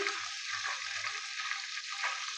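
Whole spices, bay leaves and black, green and large cardamoms, cloves, peppercorns and cumin, sizzle steadily in about half a cup of hot oil for Hyderabadi chicken masala, a close, continuous frying hiss with faint low stirring thumps.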